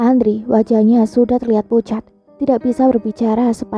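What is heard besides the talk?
No distinct noise like a dog, phone or traffic.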